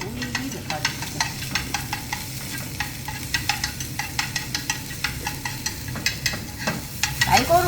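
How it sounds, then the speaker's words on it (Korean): Cucumber stir-fried in a pan gives a steady sizzle broken by rapid, rhythmic scraping and tossing clicks from stirring, close and fairly loud, with no talking. "오이 볶아줄게요."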